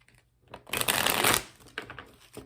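A deck of tarot cards shuffled in one quick riffling burst lasting about a second, followed by softer card handling sounds, close and without speech.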